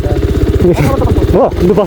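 A new motorcycle running with a low, throbbing engine pulse close by, the rhythm steady with slight rises as it pulls away, while people talk over it.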